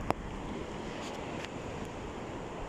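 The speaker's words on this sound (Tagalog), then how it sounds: "Ang lalaki ng alon." Broad, steady roar of large ocean waves with wind rushing across the microphone, surf washing continuously at a distance.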